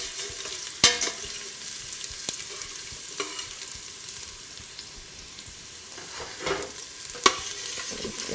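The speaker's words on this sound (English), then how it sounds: "you just give it this stir for it to release all that flavor into the oil" Aromatics sizzle in oil in a pot over low-to-medium heat while being stirred for a Nigerian spaghetti jollof, a continuous soft crackle broken by a few sharp clicks of the utensil against the pot, close up and without talk.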